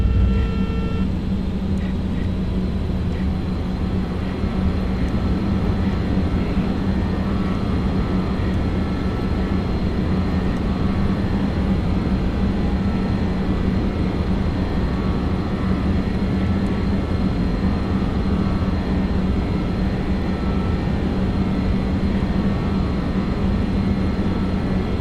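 BAe 146-300 airliner engines in the flight simulator X-Plane 11, a steady, loud, unbroken drone with a low hum and a constant high whine.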